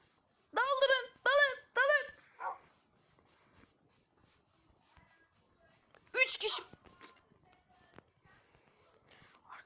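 Several sharp dog barks in a video game in quick bursts, then a pause with faint background noise and another short volley of barking.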